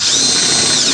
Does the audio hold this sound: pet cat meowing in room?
no